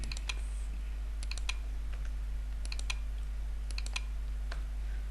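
Keys clicking on a computer keyboard while entering data into an Excel spreadsheet, in short irregular bursts of light taps with pauses between them, close and fairly quiet over a steady low hum.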